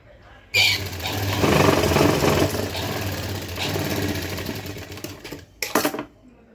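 A sewing machine stitches a designer blouse near the neckline in one long, steady mechanical run of about five seconds, followed by a couple of quick short bursts before it stops.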